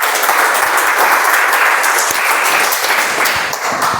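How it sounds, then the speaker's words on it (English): Audience applause for Trilochan, a first-time speaker at an Ice Breaker meeting, sustained and dense from start to finish at steady loudness, with no talk over it. "Can we have a better round of applause for Trilochan"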